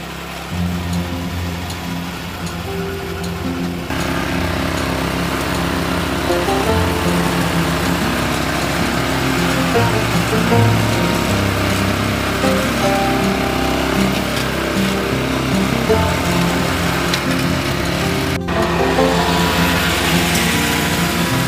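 A McLane reel mower cuts low grass with a steady, loud whirring drone of spinning blades and engine that runs unbroken and close throughout.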